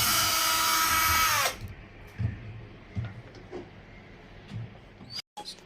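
A power drill whirs loudly for about a second and a half as it backs out screws on a Samsung washing machine, then stops, leaving faint clicks and handling noises.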